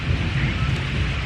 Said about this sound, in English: So it's storming.